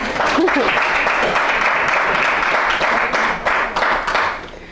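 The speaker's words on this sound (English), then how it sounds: "The Village C-Store, yeah, go ahead, applaud them." An audience at a community book event applauds for the Village C-Store, a dense, even wash of clapping that tapers off near the end.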